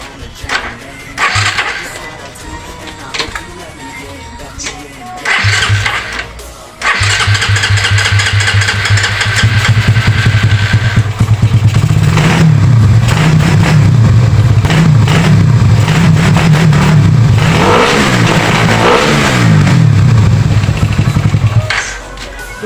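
A Suzuki Raider 150 motorcycle, its carburetor freshly cleaned, cranks with short starter bursts, catches, and then idles loudly and revs repeatedly with rising and falling engine pitch, close to the microphone.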